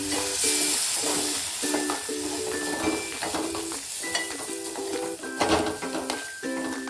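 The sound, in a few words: milk-water mix poured into roasted semolina, sizzling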